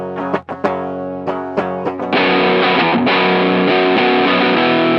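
An electric guitar played through fuzz and overdrive pedals (Free Fuzz, Green Screamer, Sonic Stomp) plays heavily distorted, fuzzy chords, starting with a few choppy hits and then sustaining a thick, saturated wall of sound.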